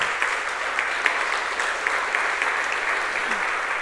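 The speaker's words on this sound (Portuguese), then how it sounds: "Aplauda ao Senhor em nome de Jesus." Applause from a church congregation during a Sunday morning service, a steady dense wash of many hands clapping at moderate level throughout, with no talk over it.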